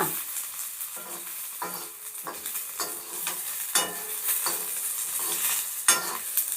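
Garlic, dried red chillies and lentils roast in a pan, a dry stirring scrape with light sizzling and repeated clinks of a spoon against metal, close and steady.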